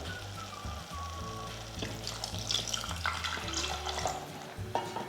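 Water poured into a pan of simmering Tamil-style egg gravy, a close, rushing splash and trickle over a soft sizzle from the pan, with no talking.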